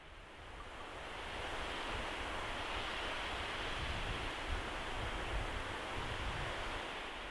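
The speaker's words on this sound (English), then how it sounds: "I can hear water, so I'm gonna refill up here." Water rushes continuously outdoors in the Sarek mountains, a broad, steady wash of noise that swells slightly after the first second and stays even, with no talking.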